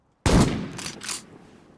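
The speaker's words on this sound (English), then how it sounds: "Now let's test out the drop of the pump shotgun." A single unsuppressed pump shotgun blast in the game Rust, a loud sharp report with a short echoing tail and a faint second crack just after, heard alone.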